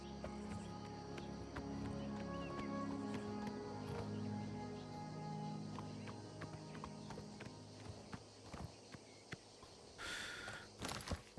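Video game horse hooves clopping at a walk in Oblivion Remastered, alongside a soft hum of background music, ending with a few louder thuds and a brief burst of noise.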